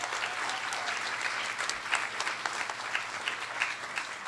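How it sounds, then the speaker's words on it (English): Audience applause at an 8th grade graduation ceremony, steady and even clapping from a gathered crowd, moderately loud and sustained without pause. "another round of applause for Ashley"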